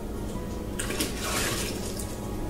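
Water poured or run into a homebrew beer batch for a Coopers IPA kit, a steady broadband rush of flowing water beginning about a third of the way in and continuing to the end, close and fairly loud.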